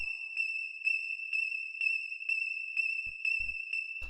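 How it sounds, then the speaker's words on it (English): A thin, high synthesizer tone holds steady throughout with faint pulsing, quiet and sustained, with a few soft low thumps near the end. "The first sound we have here is this high drone"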